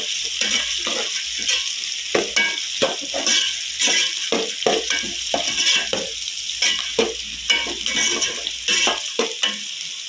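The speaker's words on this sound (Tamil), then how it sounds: "நல்லா வெங்காயம் நிறமா வதங்கணும்." Onions sizzling and frying in a pan for drumstick poriyal, stirred steadily with a ladle that scrapes the pan in quick repeated strokes over a continuous loud hiss.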